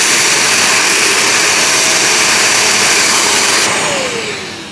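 A Shark StainStriker PX251 portable carpet cleaner runs with its crevice tool during a rinse, giving a loud, steady motor whine and suction hiss that holds evenly before tapering off at the end.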